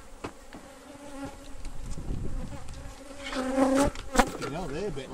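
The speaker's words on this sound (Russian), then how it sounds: "But you grow nasty bees." Bees buzz in a dense, continuous drone around an open beehive during heather-season beekeeping in England, the hum swelling louder and more agitated toward the end, with no talk over it.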